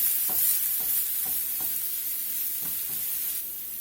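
Shallot and minced garlic sizzle in hot oil in a pan, a soft steady frying hiss with a few light stirring scrapes, quiet and close, no talking.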